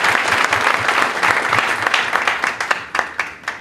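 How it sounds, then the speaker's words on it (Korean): Audience at a Korean mayoral candidates' policy presentation applauding, a dense burst of clapping that thins into scattered claps toward the end. "똑같은 답변이라 박수 한번 치겠습니다."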